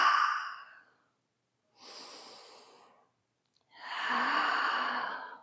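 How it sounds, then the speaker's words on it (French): Three long, deep breaths drawn in and let out during a seated yoga stretch, each a soft, airy rush close to the listener, separated by short silent pauses. "En prenant de profondes respirations."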